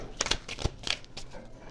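Playing cards are shuffled in a quick series of soft riffling snaps and slaps, close and fairly quiet, with no voices.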